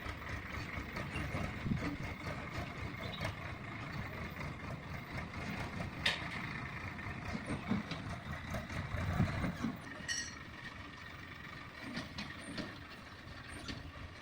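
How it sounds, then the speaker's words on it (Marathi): A tractor pulling a trolley loaded with grass, with people riding on top, rumbles past on a Konkan village road, its low engine drone steady and moderately close throughout. "समोरून बघा ट्रॅक्टर ट्रॉली चालली आणि त्यातनं गवत आहे"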